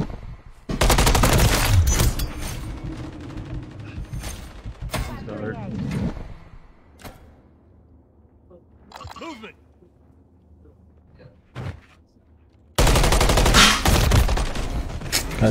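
Loud bursts of automatic gunfire from a shooter video game, with heavy firing at the start and again at the end and scattered shots in between, while a player talks over the action.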